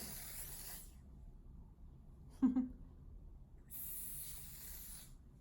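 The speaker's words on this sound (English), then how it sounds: "I'm going to just shake it once and then spray it on my face carefully" Two bursts of hissing spray from an aerosol foundation spray bottle, about a second apart, separated by a short click or shake in between.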